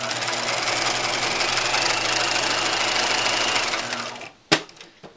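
A sewing machine runs steadily while stitching a pajama pant leg in sections, a continuous close mechanical whir for about four seconds that stops abruptly, followed by a single sharp click.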